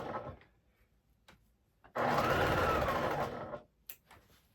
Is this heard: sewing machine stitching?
yes